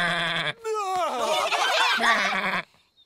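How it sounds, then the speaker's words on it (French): A cartoon sheep lets out a long, wavering bleat, loud and close, ending abruptly before a brief quiet. "Que vient de dire le mouton?"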